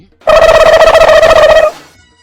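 A phone call being placed, heard as a single loud, close electronic ringing tone with a steady pulsing buzz lasting about a second and a half before cutting off into silence.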